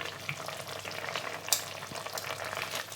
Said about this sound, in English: Move them around so you're just cooking them in like their own gravy